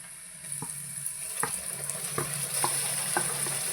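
A pan sizzles steadily as ginger garlic paste fries for biryani, with a spatula scraping and tapping the pan every second or so, close by and without talk.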